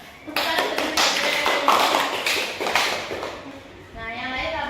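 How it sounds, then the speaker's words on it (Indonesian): Classroom applause for a student who placed first: a burst of quick, dense hand claps from pupils, loud and close, running for about three seconds before fading, with children's voices chattering around it. "Tepuk tangan untuk Dwike"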